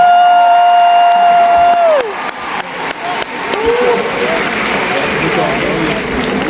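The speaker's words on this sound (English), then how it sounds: "big round of applause for our orchestra" Audience applause and cheering fill an arena concert hall for the orchestra at a musicals gala, loud and sustained with whoops after a held tuning note fades out.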